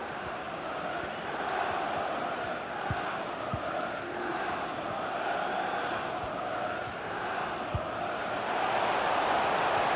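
A football stadium crowd in FIFA 23 during a Fulham versus Brighton Premier League match, a constant wash of cheering and chanting with a few scattered thuds, building slightly louder toward the end.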